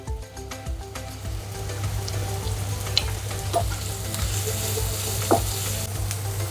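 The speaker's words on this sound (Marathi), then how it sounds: "तेल तापल्यानंतर एक कांदा बारीक चिरलेला टाकून घेऊयात" Finely chopped onion sizzles in hot oil in a pan, a loud, steady frying hiss with occasional stirring clinks and crackles, no talking.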